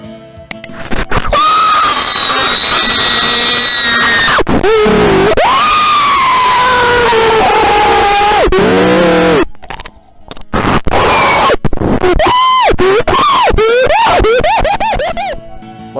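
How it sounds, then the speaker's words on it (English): A man screaming and shrieking loudly in a Roblox context, with long strained wavering yells, a brief pause near the middle, then rapid choppy high-pitched screams toward the end. "it's a pretty popular audio of him screaming"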